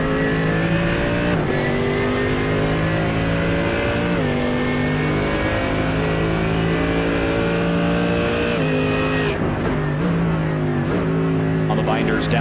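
A naturally aspirated 6.2-liter Mercedes-AMG GT3 V8 in a racing game drones loudly and continuously at Watkins Glen, its pitch climbing through the gears with sharp drops at each shift, close and steady throughout.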